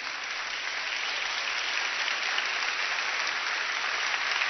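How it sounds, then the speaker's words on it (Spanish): Church congregation applauding during a Spanish-language worship service, a steady, dense wash of clapping that holds at an even loudness for the whole stretch with no voices over it. "Le damos un aplauso al Señor."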